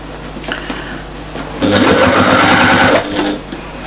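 A sewing machine runs a steady burst of small stitches along a curved seam of a fabric pouch, loud and close, starting and stopping abruptly with brief quiet handling before and after.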